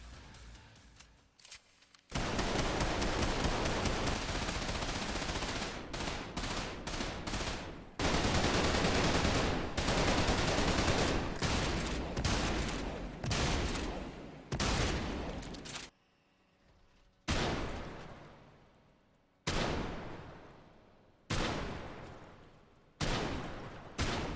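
Gunfire from the shooter video game Trepang2 comes in loud, punchy bursts: long sustained automatic volleys first, then separate heavy shots spaced by short pauses.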